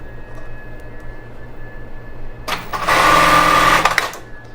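A sewing machine stitches elastic lace onto a bra. Quiet room tone gives way to one steady, fairly close run of rapid stitching lasting about a second and a half, then it stops.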